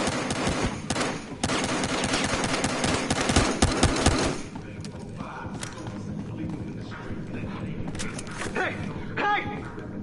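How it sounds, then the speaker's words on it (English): Rapid bursts of automatic gunfire in Battlefield Hardline crackle loudly, then give way to scattered single shots and thuds, with faint voices underneath. "Gunfire reported."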